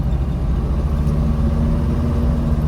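Steady low engine drone from a vintage Mercedes cruising along a street with a scenic view, a constant mid-level rumble with no voices over it.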